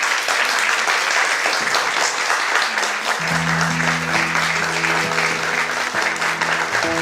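An audience applauds as the Turkish Mathematics Championship winner is called to the stage, steady loud clapping throughout while a sustained musical tone enters partway and continues beneath it.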